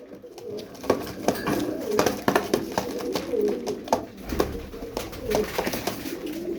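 Bursa Oynarı pigeons coo in soft, repeated low calls, with a few sharper bird sounds and faint background noise throughout.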